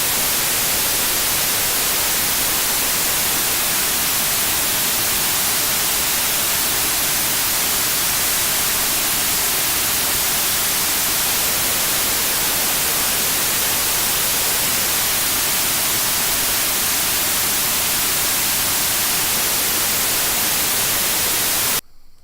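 Broad, loud hiss of noise runs steadily for over twenty seconds, with a narrow band near 500 Hz switched in twice for several seconds each, used for ear training.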